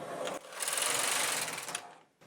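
A knitting machine carriage slides across the needle bed in one continuous whirring sweep of about a second and a half, close and fairly loud, ending with a short clack.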